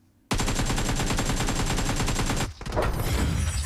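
Sustained burst of automatic gunfire in the battle royale shooter PUBG Mobile, a loud, rapid, evenly spaced rattle lasting about two seconds, followed by a brief pause and a rougher, noisier continuation of shots.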